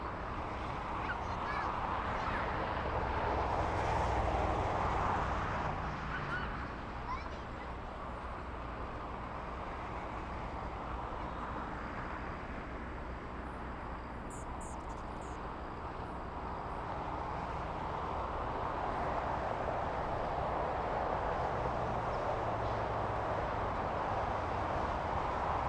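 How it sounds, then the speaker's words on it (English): A United Airlines airliner arriving from Newark lands at LAX, a broad, steady roar of engine and airframe noise that swells and then holds at a loud level throughout, with no voices. "We have United Airlines 1321 flying in from Newark, landing"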